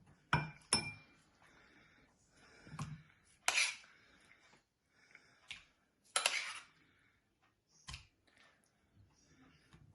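Boiled fruit being spooned into glass serving cups for a summer dessert, with sharp clinks of a spoon against glass at irregular intervals, soft wet scooping sounds between them, close and quiet with long pauses.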